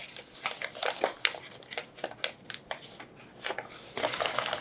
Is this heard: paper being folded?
yes